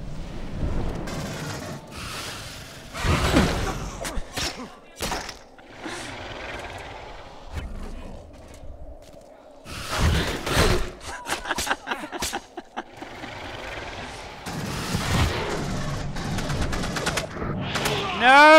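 Video game gunfire at a LAN party comes in bursts of sharp shots and machine-gun rattles, separated by quieter gaps, with a player talking in places.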